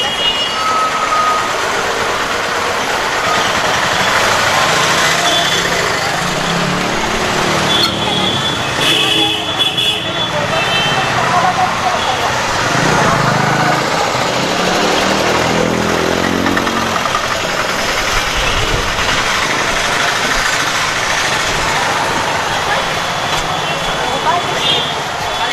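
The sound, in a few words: street traffic jam with engines idling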